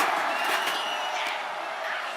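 A WWE arena crowd roars continuously during a Roman Reigns versus Brock Lesnar casket match, a dense, steady wash of cheering with no break.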